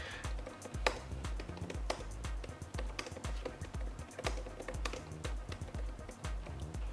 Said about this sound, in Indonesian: Kayak di sini misalkan gue coba ngetik